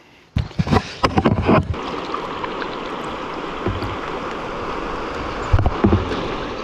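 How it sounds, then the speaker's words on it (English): River rapids and a waterfall heard from a kayak: a steady, close rushing roar of water, with splashy knocks and paddle strokes at the start and again near the end. "This is actually a fucking waterfall."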